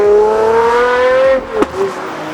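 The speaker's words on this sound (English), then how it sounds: "every single crack and pop of the engine and the exhaust" Pagani Zonda 760 LM Roadster engine and exhaust, loud and close, holding a steady high drone that drops away, followed by a sharp crack and a short burble.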